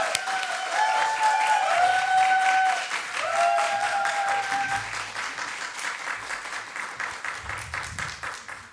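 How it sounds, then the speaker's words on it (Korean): A church seminar audience bursts into loud, sustained applause and cheering to welcome a visiting professor to the front, with shrill whistles or whoops over dense clapping that gradually thins. "우리 교수님 앞으로 나오실 때 우리가 할 수 있는 최고의 박수로 환영하겠습니다"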